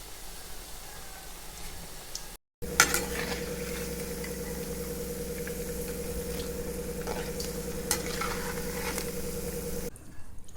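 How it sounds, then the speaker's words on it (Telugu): Leafy-greens pakodas, spoonfuls of gram-flour batter, deep-frying in hot oil with a steady, dense sizzle and bubbling that holds on after a brief silent gap, with occasional clicks of a utensil; no talking. "కొద్ది కొద్దిగా పిండిని తీసుకొని పకోడీలు వేసి గోల్డెన్ బ్రౌన్ కలర్ వచ్చే వరకు ఫ్రై చేయాలి"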